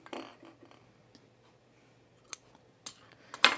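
Scissors trim the seam allowance on a Franconia dress, with a handful of crisp snips spread apart by quiet pauses and a sharper cut at the end.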